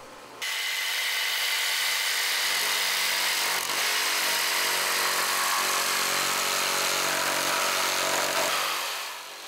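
A power saw cuts hard wood along a curve to shape the tile-supporting board of a traditional hanok roof, giving a loud, steady, whining roar that runs unbroken for about nine seconds with no voices.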